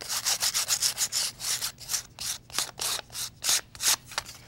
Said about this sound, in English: if there's any pieces that I missed, I can go back in and sand it lightly.